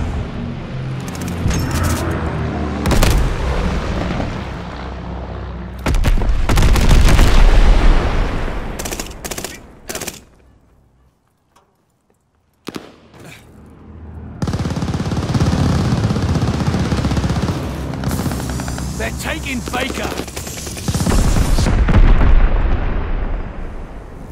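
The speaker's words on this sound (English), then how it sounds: "Friendly bombing run inbound." Explosions from a friendly bombing run in a video game, heavy booming blasts and rolling rumble with rapid gunfire mixed in, loud and sustained, breaking off into a brief silence before another long wave of blasts.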